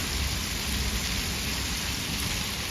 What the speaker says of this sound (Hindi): मुझे तो बारिश बहुत पसंद है।